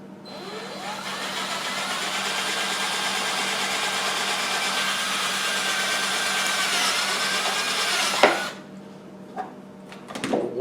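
A power drill with a step bit bores a hole through the middle of a metal can, giving a steady loud whirring grind that holds for about eight seconds, rises in pitch, then cuts off, followed by a few light clunks.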